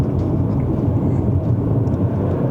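A Chery Tiggo Cross 1.5 Turbo accelerates hard on a Malaysian road, heard from inside the cabin as a loud, steady roar of engine and road noise that holds without a break.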